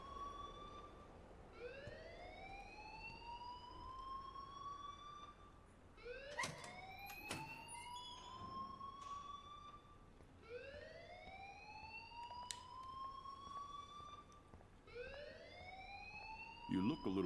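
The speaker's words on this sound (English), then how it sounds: "please turn off that alarm since that's your job" A school alarm in Life is Strange wails in repeated rising sweeps, about four cycles, steady and fairly loud with brief clanks in between.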